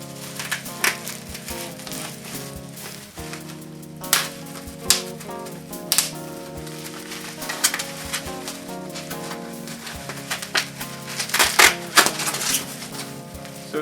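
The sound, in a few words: unwrapping a wrapped package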